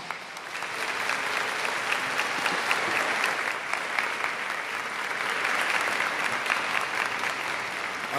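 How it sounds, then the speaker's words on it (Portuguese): Sustained audience applause fills a ceremonial session hall honoring the King of Nigeria, dense steady clapping from many hands at moderate loudness, continuing evenly throughout with no talk over it. "E eu, por favor, agradeço e peço um aplauso."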